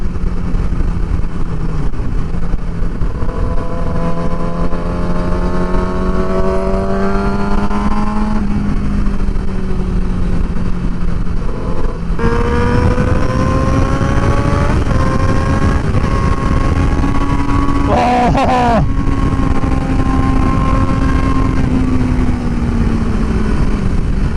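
A Yamaha R6 motorcycle engine revs hard while riding, with loud rising and falling pitch sweeps as it climbs through the gears, a brief burst of higher revving midway, sustained close engine roar throughout.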